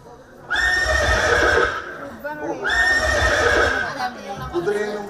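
A horse neighs twice in a stage drama, each loud, long whinny lasting over a second, with a short pause between them and faint hoofbeats.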